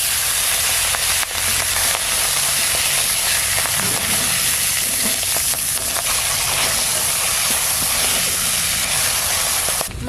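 Hilsa fish head frying in oil in a pan, a loud continuous sizzle and hiss with scattered crackles and pops, steady throughout with no talk.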